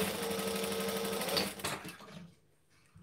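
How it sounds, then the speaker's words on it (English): A sewing machine stitches a quarter-inch seam on a gathered skirt, a steady, close mechanical whir for about one and a half seconds that then slows and stops, leaving quiet. "So I'm going to put right sides together and sew another quarter inch seam."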